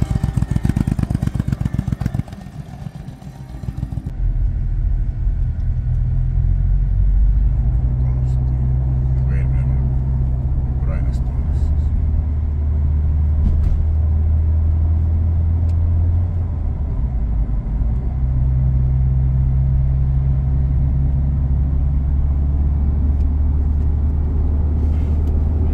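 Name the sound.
cars moving in road traffic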